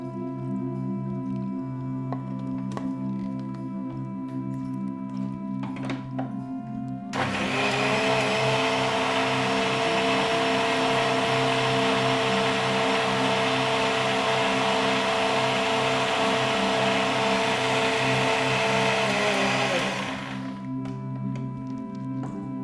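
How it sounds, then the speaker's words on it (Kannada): An electric blender whirs through a mixture with milk added, starting abruptly and running as a loud, steady whine for about thirteen seconds before stopping, over a constant low background hum. "ಲಾಸ್ಟಲ್ಲಿ ಹಾಲು ಹಾಕ್ಕೊಂಡು ಇನ್ನೊಂದು ಸರಿ ಬ್ಲೆಂಡ್"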